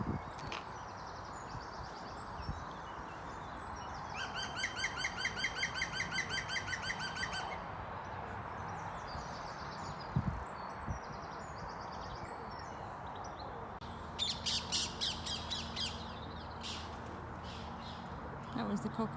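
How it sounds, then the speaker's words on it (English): Parakeets or cockatiels call from the trees of a park, sending out two bouts of rapid, high, repeated chirps over steady outdoor background noise, with some voices in the mix. "That was the cockatiels or parakeets."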